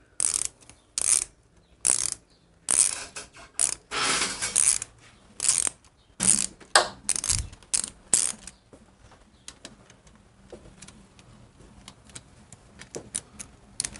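Ratchet wrench spinning a socket on bolts while working on the cam chest and lifters of an Evo stroker engine, a series of loud, close, rapid clicking bursts in the first half, then fainter scattered ticks.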